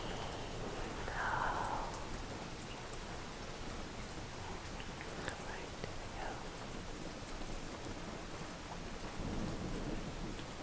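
Steady rain pours outdoors with low rolling thunder, a continuous wash of drops throughout and a brief murmured voice near the start.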